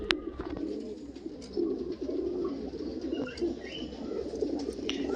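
Large Paschima pigeons coo in soft, repeated low murmurs close by, with a few faint chirps and light rustling around them.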